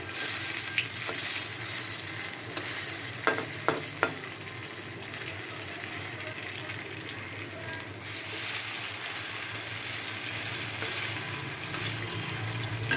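Pumpkin leaf fritters sizzling steadily in hot oil, with a few sharp utensil taps near the start and a brief louder burst partway through as the fritters are turned.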